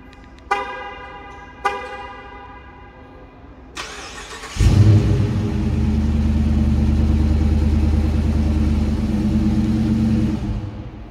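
A 2022 Dodge Charger RT with a 5.7-litre engine starts remotely: after two short horn chirps and a click, the engine cranks and catches, then settles into a loud, steady idle close by before cutting off.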